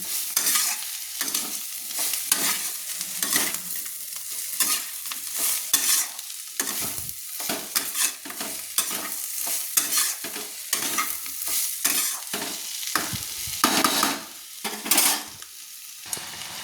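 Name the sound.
stirring bitter gourd and potatoes with poppy seed powder in a pan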